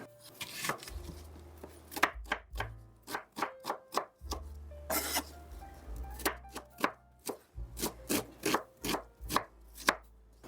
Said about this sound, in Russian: Средними кусочками режу чеснок и лук.